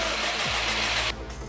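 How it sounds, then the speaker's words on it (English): A 2005 Subaru STI engine cranking over on the starter with the crank position sensor disconnected, a steady mechanical whir that drops in level near the end, heard up close in a garage. "What we're doing here is we are cranking over the engine."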